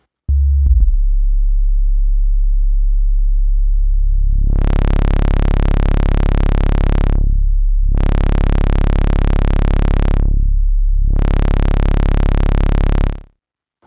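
Cherry Audio Sines synthesizer plugin playing a loud sustained tone that ramps with feedback, swelling into a bright buzzing sweep three times in a row with brief dips between, alone and steady.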